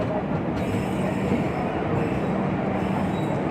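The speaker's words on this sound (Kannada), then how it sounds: "ಪ್ರಶಾಂತಿ ಎಕ್ಸ್ಪ್ರೆಸ್ ಬಂತು." The Prashanti Express rolls into a busy station, a loud, continuous rumble of rail cars with faint wheel squeal running throughout.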